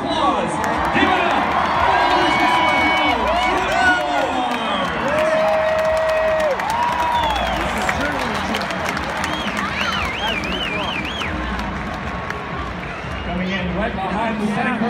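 A stadium crowd at a college football bowl game between Cal and Air Force cheers and applauds during a flag presentation, a broad roaring wash under an announcer's amplified voice and whistle-like tones.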